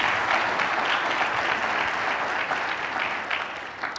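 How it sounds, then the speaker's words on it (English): An audience bursts into sustained, loud clapping at a conference talk, a dense, even wash of applause that tapers slightly toward the end. "Give him a round of applause, please."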